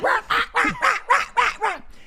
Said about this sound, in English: is upstairs barking, but that could be for numerous reasons